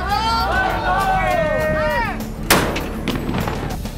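Several voices shout together in a rising chant, then one loud cannon blast from a sailing ship booms and rumbles away under crowd noise.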